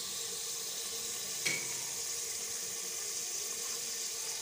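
Red chili dropped into hot ghee in a handi, a soft, steady sizzle with a single small clink or splash early on, faint and even throughout.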